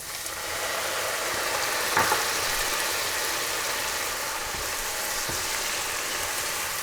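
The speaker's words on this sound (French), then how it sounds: "Allez, on verse l'armagnac." Armagnac hits a hot pan of shallots for a red wine sauce with beef hanger steak, giving a steady, even sizzle and fry that holds at constant loudness throughout, with a faint clink near the start and no talking.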